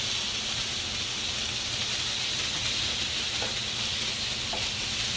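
Potatoes and onions sizzle in a pan with a loud, steady, close hiss and faint crackles throughout.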